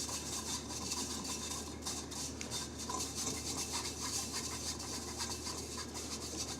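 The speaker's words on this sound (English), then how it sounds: "I'm just going to work that through the sieve" A mixture is rubbed and pressed through a sieve into a bowl, giving a close, continuous raspy scraping with rhythmic strokes and no talk.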